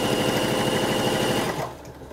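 A sewing machine stitching fabric for a make-up bag runs fast in a steady, dense mechanical whir, close and loud, then cuts out abruptly near the end, leaving a quiet room tone.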